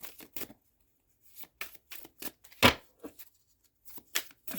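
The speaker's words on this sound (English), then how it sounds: "They're not too bad to shuffle" Long tarot cards being shuffled by hand in a series of quick, close riffling bursts separated by short pauses, one louder sustained riffle in the middle, no voices.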